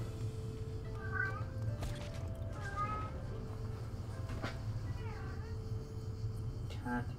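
A house cat meows several times, short rising and falling calls repeated at intervals, fairly faint and close over a steady low background hum from a game being played.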